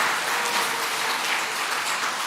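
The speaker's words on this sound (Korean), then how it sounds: "인사 박수해 주세요." A church congregation claps for scholarship recipients, a dense, even wash of applause lasting a couple of seconds with no voices.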